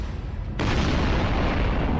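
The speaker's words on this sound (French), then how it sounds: "toutes les roquettes ont explosé" Rockets on a Russian launcher detonating after a drone strike, heard as a dense, continuous roaring blast that swells abruptly louder and stays sustained, loud and rumbling with no voices.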